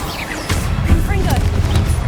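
A booming Confringo blast from Hogwarts Legacy on PS5 erupts half a second in, followed by a dense, sustained clatter of explosive spell impacts and game effects, with voices in the mix.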